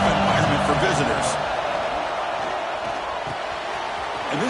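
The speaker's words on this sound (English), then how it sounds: "Listen to the crowd energy here in the early going." A stadium crowd at an American football game keeps up a loud, steady roar throughout, with a commentator talking over it.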